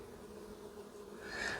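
European dark honey bees fanning at an open hive, a steady low buzzing drone that swells slightly louder toward the end, heard alone without talk.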